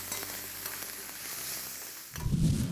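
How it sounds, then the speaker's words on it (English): Onions stir-frying in a hot pan until brown, giving a steady crackling sizzle throughout that swells louder and fuller near the end, up close, with no talking. "We will stir fry it. We have to make it brown in color."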